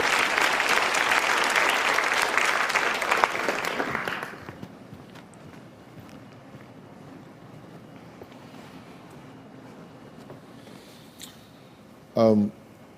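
A studio audience at the Dr. Phil show bursts into loud, dense applause for about four seconds, then it drops away to a quiet room hush with a brief sharp noise near the end.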